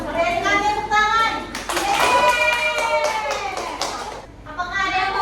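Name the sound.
audience clapping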